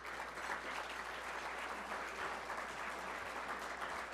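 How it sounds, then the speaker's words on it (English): An indoor crowd at a Detroit Lions event applauds steadily for about four seconds, a dense, even wash of clapping heard at a moderate distance without a clear break. "Give them a round of applause"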